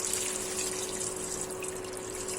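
Water poured into a pan of fried, spiced potatoes for aloo methi: a steady close hiss and gurgle of liquid running and sizzling without a break, with no talk.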